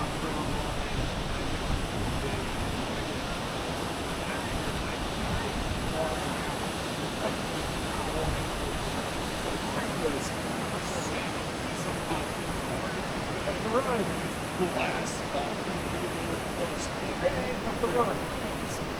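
Whitewater at Tappan Falls on the Middle Fork Salmon River in Idaho, a constant broadband roar of rushing rapids heard close by, steady throughout with a faint voice here and there.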